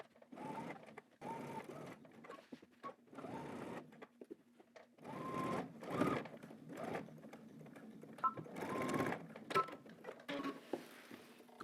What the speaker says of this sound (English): We're gonna edge stitch, starting on one side,